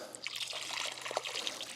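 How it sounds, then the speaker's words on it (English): Water trickles and dribbles from a PVC pipe after its ball valve is opened, a light, irregular splashing and bubbling flow heard close by with no voices. "now we're going to open the ball valve and see what kind of water we have"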